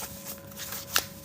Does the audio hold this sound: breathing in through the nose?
no